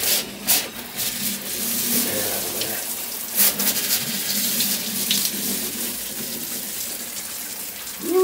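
Hot water runs steadily from a Kohler shower faucet after a cartridge replacement, a continuous close hiss and splash of flowing water with a few brief knocks and rubs along the way.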